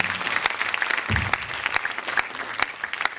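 A church audience applauds with steady, dense clapping in a sustained burst, heard alone with no voices over it.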